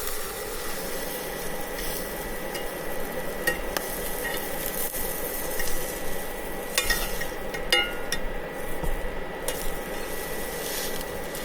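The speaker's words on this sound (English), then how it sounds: "Get the ham steak fried up." A thick ham steak fries in a pan inside a truck camper on a sandy beach, giving a steady, dense sizzle that runs throughout with small pops and stirring sounds.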